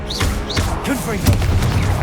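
In Hogwarts Legacy on PS5, a Confringo fire spell goes off. A voice calls out over game effects, then a burst of crackling, booming blast noise fills the rest.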